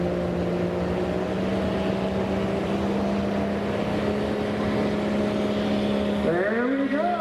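A super stock pulling truck's engine runs hard at sustained high revs in a loud, steady drone, with its pitch climbing sharply near the end.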